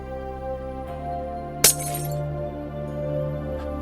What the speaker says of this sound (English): I heard the glass breaking.